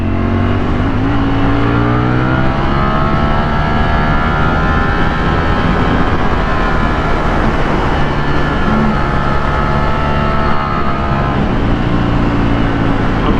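A motorcycle engine drones loudly and steadily on a cul-de-sac, its tone rising and falling as it revs and passes close by. Wind rush sits under the engine and no one speaks.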